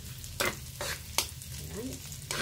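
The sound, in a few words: food being fried and stirred in a pan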